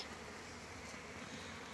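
Faint, continuous buzzing of honeybees around an open hive, a low steady drone with no talking.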